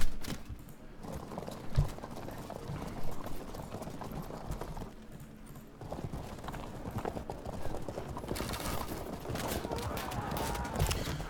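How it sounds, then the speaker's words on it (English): Massed hooves of horse archer cavalry galloping in the strategy video game Field of Glory 2, a dense, continuous clattering of many hoofbeats at moderate loudness, steady throughout with a brief lull midway, heard alone without talk. "Let's move the horse archers up."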